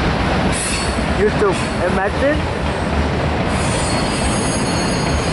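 A Norfolk Southern stack and manifest freight train with a mid-train DPU rolls past in El Paso, wheels squealing loudly over a steady rumble and clatter, with a voice speaking briefly.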